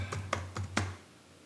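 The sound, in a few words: typing on computer keyboard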